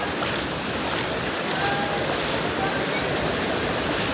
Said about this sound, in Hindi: ये छोटा सा झरना प्यारा सा